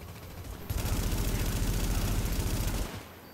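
Sustained burst of rapid automatic gunfire from an M1A rifle in The Division shooter game, dense and continuous for about two seconds with heavy low thumps, fairly loud, no talk over it.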